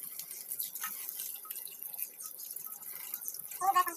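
Freshly harvested green vegetables are being rinsed with water. Close splashes and drips run with an irregular rhythm, and they grow busier and louder toward the end.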